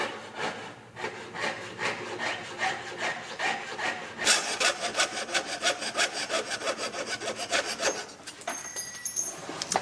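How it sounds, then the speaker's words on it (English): A fine saw cuts steadily with quick, even back-and-forth strokes, a close rhythmic rasping that grows brighter and denser partway through. "You always know if you're using your jeweler saw appropriately is by the sound."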